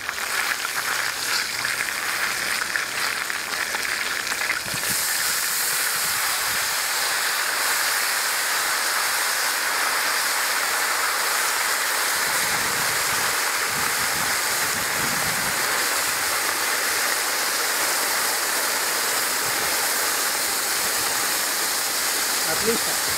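Hot water poured into a kazan of frying kebab meat gives a loud, continuous hiss and rushing sizzle that fills the whole stretch, steady and close.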